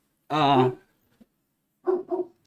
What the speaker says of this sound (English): There goes my dog barking, ruining my video.